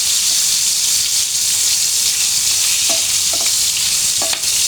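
Pointed gourd (potol) frying in oil in a pan, a loud, steady, hissing sizzle with a few faint clinks of stirring toward the end.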